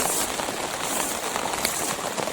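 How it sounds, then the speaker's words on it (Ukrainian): Heavy rain pours down steadily outdoors in a vegetable garden, a dense, continuous hiss of drops drumming on surfaces close by, with no voices. "такий сильний дощ почав у нас"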